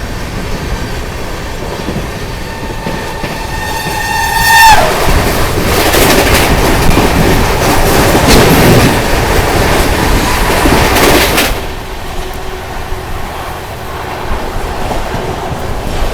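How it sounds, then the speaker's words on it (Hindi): A Vande Bharat Express crosses an express train in India, rushing past loudly for several seconds with rattling wheels and clatter, preceded by a horn and fading to steady rolling noise. "Crossing with 22436 New Delhi Varanasi Vande Bharat Express, India's fastest train."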